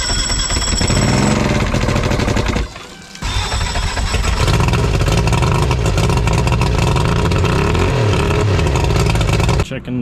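A Mercury outboard motor cranks over on a test setup during a cylinder compression check, a loud continuous churning mechanical drone that breaks briefly near the middle and cuts off at the end.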